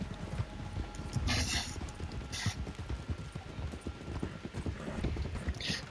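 Horse hooves clip-clop at a steady gallop in Red Dead Redemption 2, a rapid rhythmic pounding close by, with occasional brighter rattling bursts of tack and gear over the beat.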